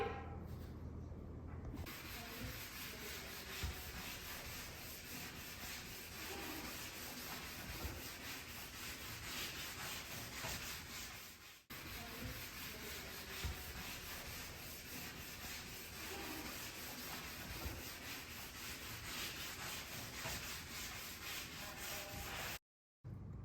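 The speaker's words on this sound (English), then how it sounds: "now that we wiped down the banister with the tacky cloth" A tacky cloth wipes down a wooden stair banister ahead of lacquer and Semi-Gloss white paint, giving a steady soft rubbing and hissing friction close by that runs continuously for over twenty seconds, with a brief break midway and no talking.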